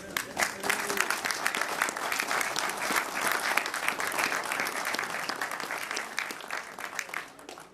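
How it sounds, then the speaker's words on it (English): Members at a pigeon fanciers' national membership meeting give volunteers a standing round of applause: dense, even clapping from a sizable room, heard somewhat distant and steady, tapering slightly at the end. "So if you could stand, we'd like to give you a round of applause"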